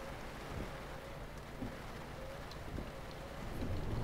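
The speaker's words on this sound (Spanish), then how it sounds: "Entre que está lloviendo y tal." Rain falling in the Euro Truck Simulator 2 driving game, a quiet, even wash of noise over a low engine drone, swelling slightly toward the end, with no voices.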